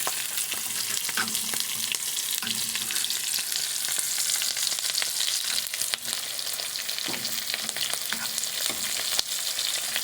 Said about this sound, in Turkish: Evet arkadaşlar yumurtayı da atacağız şimdi iyice piştikten sonra biberli.